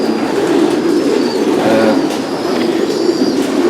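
Pigeons cooing in a racing-pigeon stud loft, soft low repeated coos close by over a steady, dense background hum with no speech.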